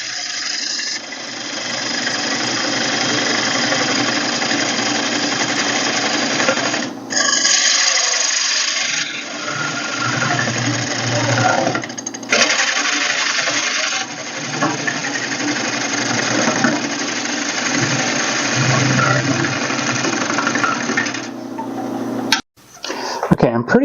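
A bowl gouge cuts a wooden bowl spinning on a wood lathe, a steady close scraping and hissing that stops and restarts between passes, with occasional talking in the shop.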